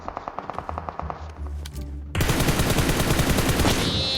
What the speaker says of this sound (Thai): มันสวนแล้วมันนอนยิง